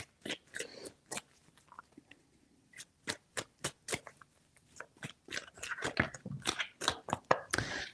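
Tarot cards are shuffled in quick bursts, sharp riffling snaps and soft slaps of card stock close up, separated by brief pauses.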